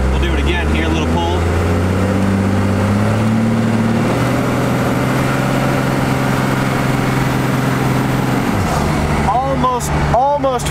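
A turbocharged car engine pulls hard under almost 20 pounds of boost from about 40 mph, a steady throaty drone climbing in pitch for several seconds before easing off, with a voice briefly talking at the end.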